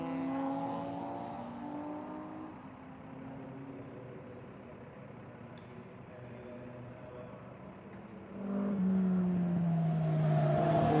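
Racing cars, including a Ferrari and a Maserati T61, circulate at the Hungaroring. One engine drones steadily at a distance, then a louder car sweeps closer near the end, its pitch falling as it passes.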